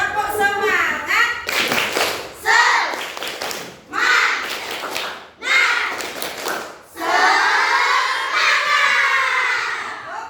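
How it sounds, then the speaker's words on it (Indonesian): Elementary schoolchildren in an Indonesian classroom perform the 'tepuk semangat' chant, loud bursts of group clapping alternating with shouted, sung phrases, the whole class voicing together in energetic rhythm. "Tepuk semangat."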